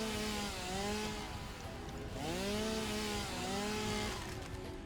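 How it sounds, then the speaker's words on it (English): A chainsaw runs in the video game Satisfactory, its engine droning steadily and loud, with pitch rising and falling in repeated revving sweeps throughout, with no voices. "Chainsaw time."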